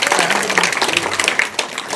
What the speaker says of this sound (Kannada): ಜೋರಾದ ಚಪ್ಪಾಳೆ ಮೂಲಕ ಪರಮ ಪೂಜ್ಯರನ್ನ